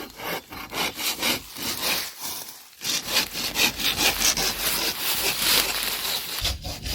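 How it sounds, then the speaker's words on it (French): A hand saw cuts back and forth through a standing tree trunk during felling, with rapid rhythmic rasping strokes that pause briefly once and then resume, loud and close with no speech. "Et on va scier comme ça."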